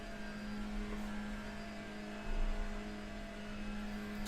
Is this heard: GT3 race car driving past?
yes